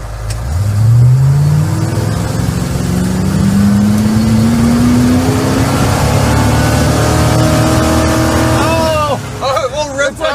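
A car engine revs hard in first gear and climbs steadily in pitch, holding near its peak for several seconds at a natural rev limit, then drops abruptly and sputters near the end.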